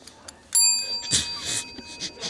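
A single bright bell ring with a clear, sustained metallic tone that slowly fades, followed by soft handling noises and rustling.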